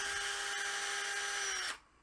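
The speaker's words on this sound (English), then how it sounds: "This is probably a loud drill." A power drill drives a screw tight as a lock nut, one loud, steady high whine lasting under two seconds with a faint dip midway before cutting off abruptly.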